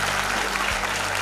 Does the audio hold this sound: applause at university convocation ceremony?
yes